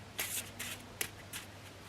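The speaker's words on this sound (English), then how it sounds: "so I will shuffle these cards" A deck of cards being shuffled by hand at a table for a reading game: four quick riffling bursts, close and crisp, separated by brief pauses.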